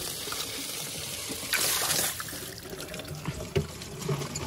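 Fresh river water flows past in a mountain stream beside a bike being washed: a continuous close splashing, trickling rush with brief louder surges.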